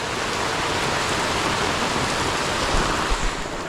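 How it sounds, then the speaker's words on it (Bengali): Heavy rain pours steadily during a motorbike trip toward Rangpur, a dense, loud roar of falling water with no talk, holding even for nearly four seconds with a few small bumps near the end. "প্রচণ্ড বৃষ্টি হচ্ছে"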